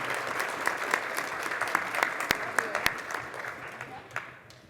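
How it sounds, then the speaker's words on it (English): Conference audience giving a warm round of applause, steady clapping with a few sharp close claps that thins out toward the end. "Will y'all please give her a warm round of applause?"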